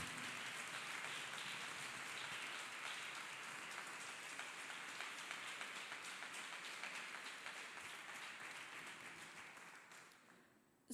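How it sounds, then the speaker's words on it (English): A church congregation claps together in worship, a faint and fairly distant wash of many hands that carries on evenly and then fades away at the end. "Let us clap hands for Jesus Christ."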